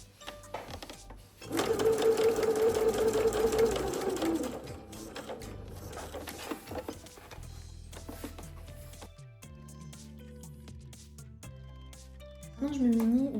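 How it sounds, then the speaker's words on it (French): Sewing machine topstitching along a fabric edge for a child's school satchel, running in a loud sustained burst then steadier stitching with pauses and a brief restart at the end; a voice talks intermittently. "Je passe à la surpiqûre et je viens me mettre au bord du pied, le bord du tissu au bord du pied."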